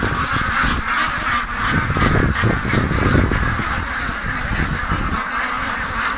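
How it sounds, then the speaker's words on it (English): A group of ducks outdoors at a lake-side pen honks and quacks in a dense, overlapping chorus, loud and continuous with no break. "look at this group of ducks"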